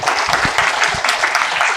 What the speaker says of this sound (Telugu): ఒక్కసారి మాస్టర్స్ గట్టిగా చప్పట్లు కొట్టండి